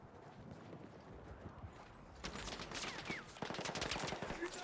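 Gunfire in the Battlefield 6 video game during a sniper-focused match: rapid bursts of shots, fairly loud and close, crackling in after a quieter stretch of background rumble, with occasional faint voice underneath.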